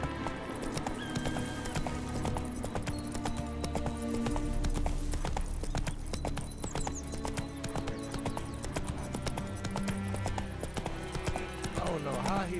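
Roach the horse in a video game, with steady rhythmic hoofbeats clip-clopping under continuous talk and game music, and a faint whinny partway through.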